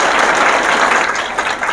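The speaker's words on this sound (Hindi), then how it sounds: "तो चलिए इसके लिए एक बार जोरदार ताली हो जाए" Loud, dense applause from a large audience fills the space, a steady wash of clapping hands that dips briefly near the end before swelling again, with no voices over it.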